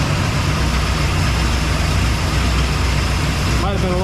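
A vehicle engine idles while it warms up, a steady rumbling drone held at an even level throughout, with a brief tonal whine near the end.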